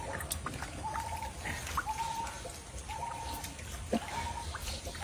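Water trickles and splashes steadily as something is washed in a home courtyard, a soft continuous slosh with small drips and a few brief splashes, fairly quiet throughout.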